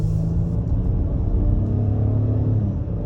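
The 3.5-liter V6 of a 2022 Acura MDX SH-AWD pulls hard under wide-open throttle, a deep, steady engine rumble from inside the cabin with the pitch climbing gently and no voices over it.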